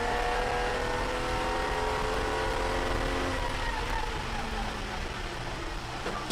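A race car at Virginia International Raceway during a WRL endurance race gives off a continuous, loud engine drone with a prominent drivetrain and transmission whine, holding steady and fading slightly toward the end.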